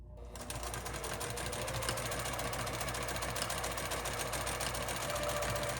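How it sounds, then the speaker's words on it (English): A sewing machine runs continuously during free-motion quilting, a fast even needle rattle close and loud from start to finish after a brief silent start, no talk. "I'm controlling my hand speed with the speed of the machine going up and down"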